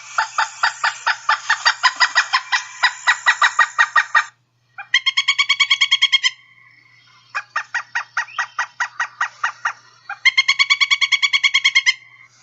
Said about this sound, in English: Here's the pileated woodpecker.